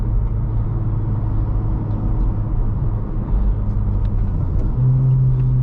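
A 2024 Honda Civic Type R with a six-speed manual pulls hard under acceleration, its engine a steady, loud, close rumble that climbs in pitch toward the end, with no one talking.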